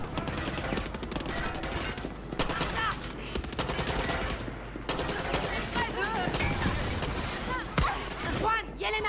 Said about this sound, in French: il y a un putain de char qui nous tire dessus, mec.